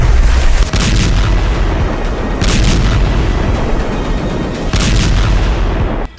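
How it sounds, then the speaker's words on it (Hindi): Explosions from Israeli air strikes on buildings in Gaza, heard as loud, continuous booming rumble with several heavier blasts standing out, close and overwhelming, with no talking. "गाजा पट्टी और वेस्ट बैंक में हवाई हमलों में फिलिस्तीन और हमास के लोगों की इमारतें तरबूज की तरफ फट रही हैं।"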